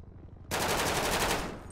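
Sustained automatic gunfire from the FivePD video game, a dense loud rapid burst that starts abruptly after a quiet half second and runs to the end, no talking.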